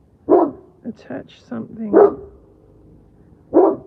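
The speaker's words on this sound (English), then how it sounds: "Hey, stop barking, mate." A dog barks sharply three times, spaced out over a few seconds, close by and loud, while someone talks in between the barks.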